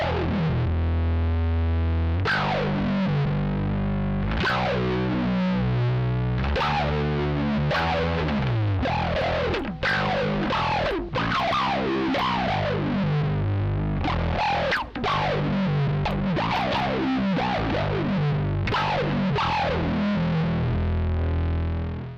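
Bass guitar runs through an MXR Bass Envelope Filter pedal, each plucked note swelling with a squelchy, quacking sweep in a busy, driving funk line.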